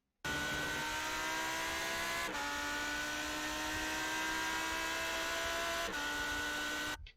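A race car engine in the iRacing simulator at Motegi drones steadily with a sustained tonal whine, its pitch dipping sharply twice as the driver downshifts approaching a corner.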